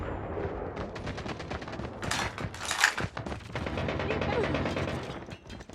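Kilo bolt-action rifle fire at close range during a Call of Duty match: loud shots mixed with dense mechanical clatter and overlapping game gunfire, fairly continuous throughout.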